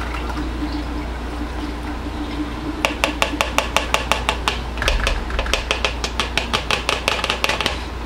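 Lye water for soap making is poured through a strainer while a steady low hum runs underneath. It begins with a quiet trickle, then a run of rapid, bright clinks and taps against a container comes in close.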